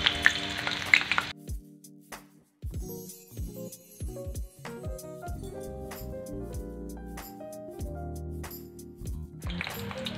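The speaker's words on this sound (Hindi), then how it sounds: "हमें इसे हाई फ्लेम पर ही तलना है।" Pointed gourd (parwal) fries on high flame, a loud sizzle opening and closing the stretch, with scraping stirs and clinks of a spatula against the pan in between, no talking.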